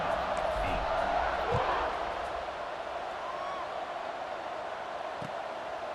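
Stadium crowd in EA Sports College Football 26 roaring steadily before a kickoff, a broad wash of cheering that swells early and then holds at a sustained level with no clear talk.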